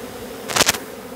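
Bees from a hive rescued out of a condemned building buzz in a brief close burst of two swells lasting about a quarter second, over a quiet background.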